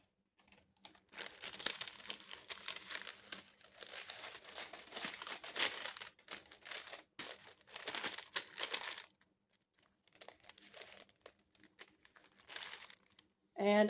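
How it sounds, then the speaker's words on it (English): A plastic bag crinkles and rustles as a gingerbread-man holiday decoration is packed into it, in busy bursts of close, crisp crackling with brief pauses. "I will place this in a plastic bag just like that"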